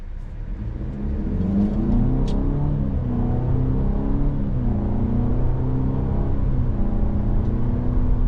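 A 2025 Cadillac XT4 AWD with its 2-liter turbo engine pulls away from a stop, the engine note rising steadily through the gears under an automatic transmission, heard from inside the cabin at a moderate, constant level with no talking.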